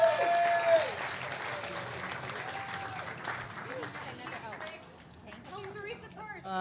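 Audience applause at a Harlem Renaissance gala, with clapping filling the room under a voice and fading partway through as a sustained tone and some talk carry on.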